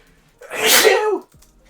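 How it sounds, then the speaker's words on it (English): A single loud, close sneeze bursts out for under a second, rising sharply and cutting off abruptly, with near silence before and after. "I'm gonna sneeze."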